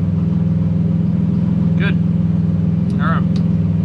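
A race car's engine idles with a loud, steady, throbbing drone close by while a few voice fragments come through over it.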